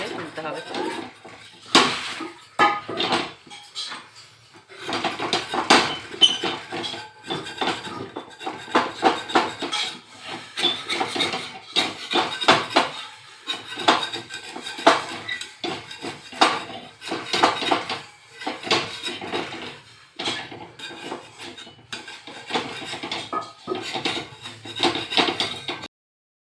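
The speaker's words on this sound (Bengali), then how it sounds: "চারপাশ দিকে একটু খুন্তির সাহায্যে নাড়িয়ে নাড়িয়ে তুলতে হবে" A metal spatula stirs and scrapes egg tadka in a pan, making irregular clinks and rasping scrapes in repeated bursts throughout, close up and moderately loud.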